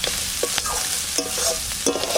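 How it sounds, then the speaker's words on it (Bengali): Crab coated in flour frying in a pan until crisp gives a steady close sizzle, with scraping stirs and spatula clicks at intervals and no voices. "সুন্দর ভাজা ভাজা করে নেব"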